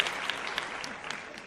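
Applause from a podcast audience, a steady wash of clapping hands with scattered sharper claps, fairly close and continuous throughout.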